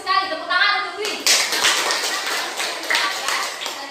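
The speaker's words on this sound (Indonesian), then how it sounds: "Tepuk tangan untuk Dwi." A classroom group claps for a student, a burst of quick, dense applause close by that keeps going for several seconds after a brief spoken phrase at the start.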